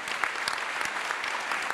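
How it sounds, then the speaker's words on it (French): Applause from the audience at a French business conference on inequality, a steady dense patter of many hands clapping, moderately distant and even throughout. "je voudrais un tonnerre d'applaudissements pour les équipes organisatrices"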